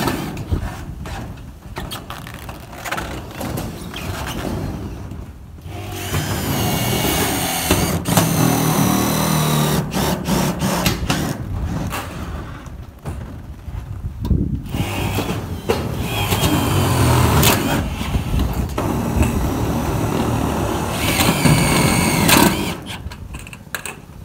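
Milwaukee M18 Gen 3 cordless drill running on a 2.0 battery drives screws into metal roofing sheet, with repeated loud whirring bursts broken by short pauses, close and dominant across the whole stretch.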